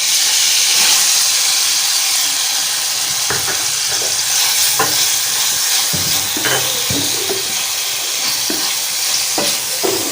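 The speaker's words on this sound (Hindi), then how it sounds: "हमने हल्का हल्का इनको फ्राई करना है बस, और साइड पर कर लेना है।" Chopped tomato and onion fry in a hot pan with a loud continuous sizzle and hiss, broken by intermittent scraping and clattering as the pieces are stirred.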